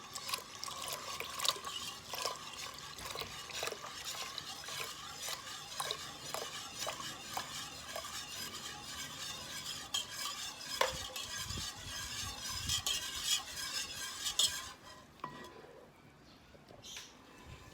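A jelly flan mixture being stirred in a bowl, with steady scraping and clinking of a utensil against the container that runs continuously, then stops near the end, leaving a quieter tail.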